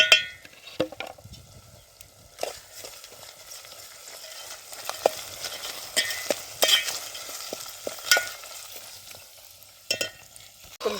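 Oil sizzles and crackles in a pan as chopped green chillies are stirred, with scattered pops and the occasional clink of a utensil.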